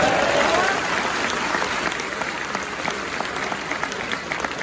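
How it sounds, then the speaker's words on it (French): Audience at a French-speaking religious convention applauding, a dense wash of clapping that starts strong and gradually thins while continuing steadily throughout. "On peut l'applaudir."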